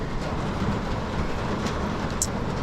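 A sudden rain shower at an oceanside spot pours down as a dense, steady hiss of rain, loud and continuous with no talk.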